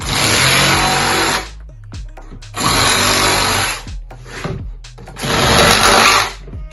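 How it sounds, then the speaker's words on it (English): A power tool cuts a joint into the bottom of a plastic wheelie bin being made into a compost toilet, three loud close bursts of high whining buzz separated by short quieter pauses. "Now I'm going to cut a little joint into the bottom."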